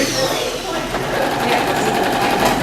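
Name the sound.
sewing machine double stitching leather upholstery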